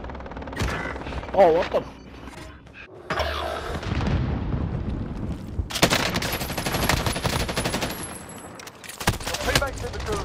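Bursts of automatic gunfire and explosions in Call of Duty Warzone, loud and repeated across the clip, with a brief startled voice speaking over the shooting.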